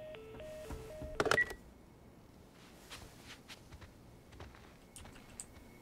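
Dialing Tommy's telephone in the video game The Last of Us Part I produces a quick run of stepped keypad tones and beeps, followed by soft clicks and light footsteps in a quiet room.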